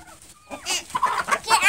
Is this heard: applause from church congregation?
no